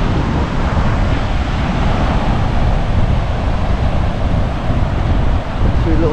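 Strong wind and surf at Kata Beach in Phuket, a steady, loud rush of gusts buffeting the microphone over crashing waves, continuous throughout with no voices.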